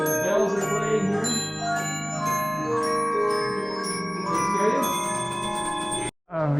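An antique music wheel rings out a steady, bright melody of bell tones with sustained overlapping chimes at a museum in Ridgeway, Colorado, playing continuously before cutting off abruptly near the end.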